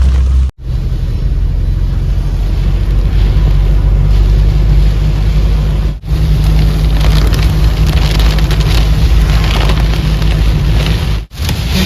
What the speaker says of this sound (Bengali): এই মুহূর্তে কিন্তু ভালোই ঝড় এবং বৃষ্টি হচ্ছে বিশেষ করে বৃষ্টিটা কিন্তু ভালোই হচ্ছে